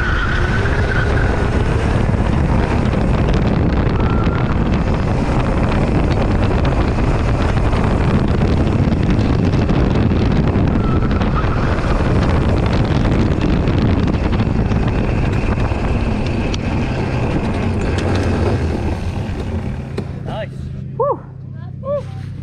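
An electric go kart runs through the final corners of an outdoor race track on a wet-then-sunny day, a steady close broadband rush of wind and motion dominating throughout before easing off near the end.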